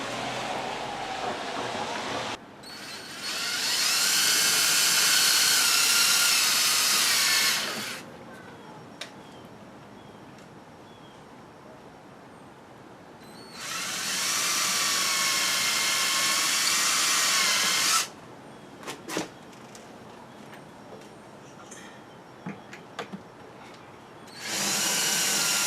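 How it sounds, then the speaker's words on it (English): A power drill bores holes while a storm door is installed, with two sustained high whining bursts of several seconds each, separated by quieter stretches with a few brief clicks and knocks. "now that we've drilled the holes, we're going to put some screws in"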